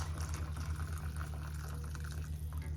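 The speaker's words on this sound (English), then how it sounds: "I'll just add another litre of hot water" Hot water pours into a pot of vegetable stock made from stock cubes, a steady close liquid rush over a low hum, with no talking.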